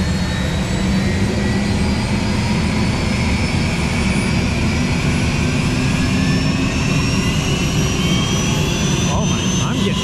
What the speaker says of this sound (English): We get a shot of the helicopter taking off right.